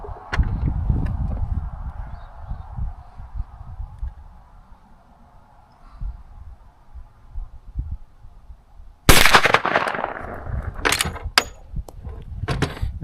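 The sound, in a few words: gunshot from 10mm Marlin 1894 Trapper rifle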